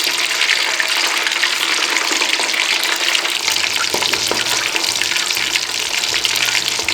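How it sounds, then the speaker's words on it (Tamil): Marinated chicken pieces for Sprite chili chicken frying in hot oil, a steady dense hiss and crackle that runs unbroken and fairly loud from start to end, with no talking. "இது ஊறினதுக்கப்புறம் இதை எண்ணெயில் போட்டு பொரிச்சு எடுக்கணும்."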